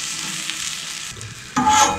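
Ahi tuna searing on an Arteflame grill gives a steady close sizzle that briefly dips, then swells louder as the fish is flipped, with no talk over it.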